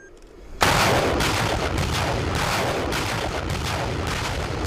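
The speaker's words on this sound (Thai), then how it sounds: "กระทรวงกลาโหมรัสเซียได้เผยภาพกำลังพลซ้อมยิงปืนใหญ่บริเวณคาบสมุทรโคลา" Russian artillery fires during a military exercise on the Kola Peninsula, with a sudden loud blast that rolls into sustained, rumbling booming and echo with no speech over it.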